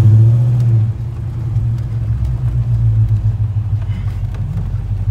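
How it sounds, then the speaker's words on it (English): Steady low engine rumble from inside a moving black coupe, loud and continuous throughout, with a slight dip after the first second and no talking. "We are going to lunch, guys, and we are in Alex's black coupe."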